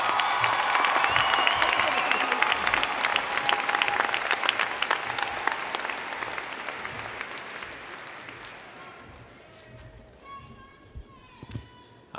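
A large audience at a spring university commencement applauds public health graduates, with dense clapping and some cheering that thins and fades over several seconds, leaving scattered claps and faint voices.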